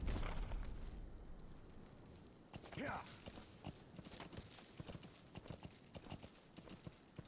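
A horse gallops in Metal Gear Solid V: The Phantom Pain, its hooves beating in a steady rapid clip-clop rhythm. A brief whinny sounds near the start, and some game noise runs underneath.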